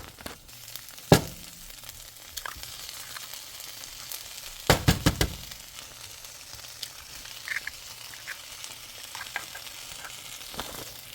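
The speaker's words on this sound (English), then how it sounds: "now I'm going to go ahead and add the eggs in here" Two eggs frying in a pan while a steak, shrimp and rice dinner is cooked, a soft steady sizzle broken by a few sharp clatters and crackles, with no talking.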